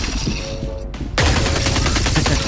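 Gunfire in Solaris Offworld Combat, a VR mech combat game: a sustained volley of rapid, loud shots that cuts briefly to near silence, then resumes as a dense, close burst of automatic fire.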